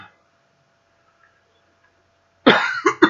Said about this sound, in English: There's a cough for you.